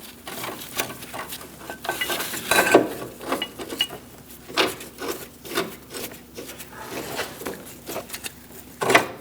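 A hand ratchet clicks in short, uneven strokes while tightening bolts on a new front lower inner ball joint of a 2000-2006 Mini Cooper, close and fairly loud with brief pauses between pulls.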